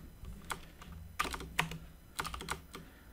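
A computer keyboard clicks out a short name in quick, irregular bursts of keystrokes, close and fairly quiet, with no talking.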